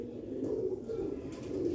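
A Sialkoti Ali pigeon gives a low, repeated cooing, three soft rolling coos spaced evenly and heard close.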